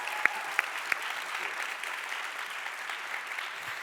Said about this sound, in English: Let's give them an extra round of applause for that.